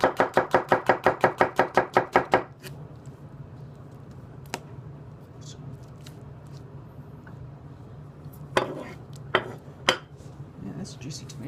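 Sukenari honyaki kitchen knife chopping a juicy tomato on a board, a rapid run of about fifteen sharp, close, even knocks, then scattered single taps and clatters over a quiet background.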